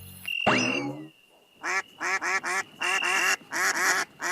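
Ducks quack loudly and repeatedly at close range in quick bursts, following a brief squawk at the start.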